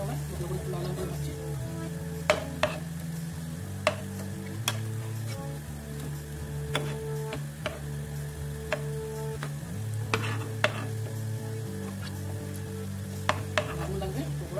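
Chana dal and potato pakoras frying in oil, a soft steady sizzle punctuated by occasional sharp taps and clinks of a utensil, over a low background hum.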